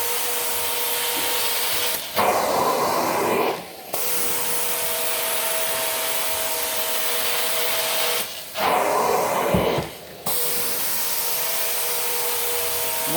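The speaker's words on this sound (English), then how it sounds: "With our hot water steam clean." A hot water steam carpet cleaner wand fed by an outside truck mount gives a steady loud suction roar, broken twice by brief scrubbing passes with a harsher rushing tone.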